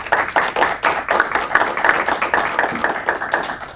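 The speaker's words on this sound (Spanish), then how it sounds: "Les pido un fuerte aplauso para ella" A small audience claps steadily for a speaker at a Mexican migration-law event, a few hands tapping out a quick, even rhythm for several seconds with no voices over it.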